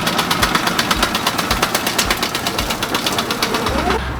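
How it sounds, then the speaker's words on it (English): A laboratory sieve shaker runs with a sand sample loaded in its stacked sieves, giving a steady close mechanical rattle with a regular pulsing beat that continues throughout before easing near the end. "and we can turn on that sieve."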